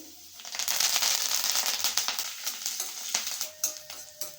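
Roughly crushed garlic cloves and curry leaves fry in hot oil with a loud, crackling sizzle that swells and then breaks into sharp pops and spatters near the end.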